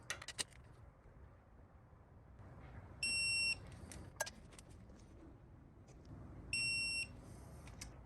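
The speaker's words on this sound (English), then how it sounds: "This is my new fancy torque wrench that does angle, and it's digital." Two bursts of a digital angle torque wrench beeping, each a steady high electronic tone about half a second long, sound over faint workshop noise during a Toyota 3.4L V6 5VZ-FE head gasket and cracked head repair.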